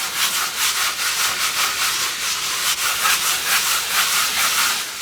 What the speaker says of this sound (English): after I finish buffing this first application of Dorland's wax